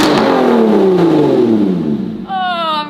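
A 2021 Ford Bronco engine revs hard toward 7,000 rpm and then falls back in pitch, loud and close, heard from the back, with a brief rising whistle-like tone near the end.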